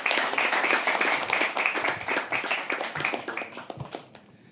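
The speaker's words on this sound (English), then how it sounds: "Can we please have a round of applause for that?" An audience at a poetry open mic at The Habitat claps after a performance, brisk scattered hand claps from a small room that thin out and fade toward the end.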